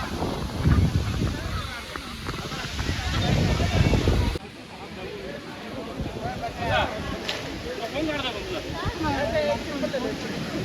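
A waterfall near Ekvira temple in Lonavala rushes steadily as broadband noise, with people talking over it and the level dropping slightly partway through.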